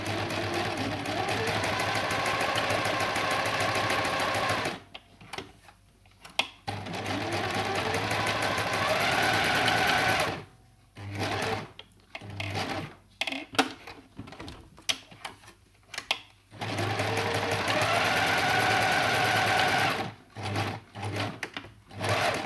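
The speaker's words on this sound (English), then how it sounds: "I'm just going to do a straight stitch." Fabric runs through a sewing machine on a straight stitch in three steady mechanical bursts of rapid needle chatter, separated by pauses with quiet handling noises, close and clear.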